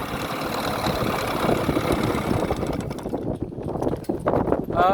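An 8 hp Johnson two-stroke outboard engine runs steadily at close range with a mid-pitched chugging rumble. The tone shifts slightly partway through.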